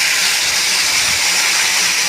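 Water poured into a hot wok for Bengali bhetki fish curry gives a loud, steady hiss of steam that holds evenly for about two seconds, with no talking.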